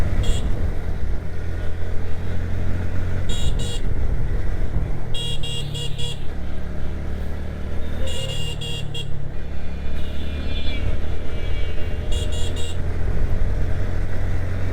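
Motorcycle engines drone steadily as bikes race each other through busy Eid-day traffic, with several sharp horn honks in short bursts cutting through.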